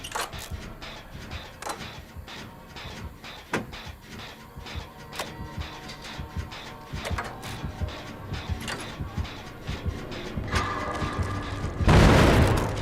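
A generator explodes in a video game, preceded by a long series of clattering mechanical clicks and sharp knocks, then a loud roaring burst near the end.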